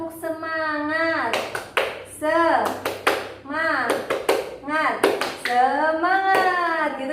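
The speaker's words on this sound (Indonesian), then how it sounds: "Kita gimana kalau tepuk semangat dulu?" Sharp, rhythmic handclaps of a 'tepuk semangat' spirit clap during a training session for a group of women, crisp bursts punctuating a nearby voice that talks and chants between the beats.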